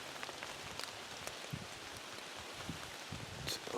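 Steady rain pattering on surfaces outdoors in gusty wind during a bow hunt, a dense continuous hiss with scattered droplet taps, close and fairly loud throughout.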